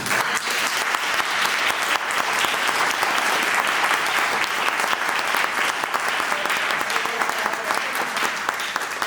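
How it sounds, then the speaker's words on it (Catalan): Warm, sustained applause from an audience at a book prize presentation, an even wall of clapping lasting about nine seconds without pause or talk. "m'agradaria que la rebrem amb un fort aplaudiment"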